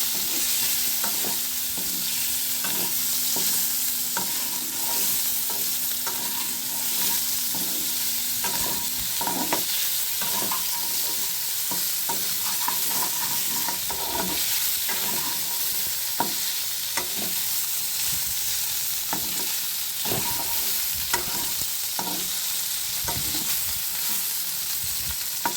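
Chili flakes fry in a pan under a constant bright sizzle while a utensil scrapes and taps the pan in an uneven rhythm. The sound stays close and steady for the whole stretch, with no voices.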